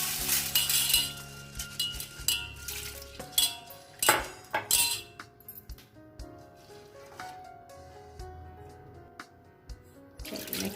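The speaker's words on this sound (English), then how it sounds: "Next, we'll be taking this dal, wash it twice." Dal lentils being rinsed in a pot of water, with irregular clinks and scrapes of metal, sloshing and splashing up close, and a few sharper knocks against the pot.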